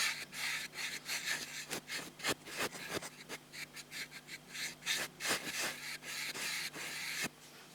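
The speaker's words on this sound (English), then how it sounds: "the thing that works the best is the buffing brush. Just buff your skin now" A buffing brush rubs across skin in quick, close, soft strokes, a rhythmic series of brushy swishes and scratches with brief pauses between them, quiet and intimate.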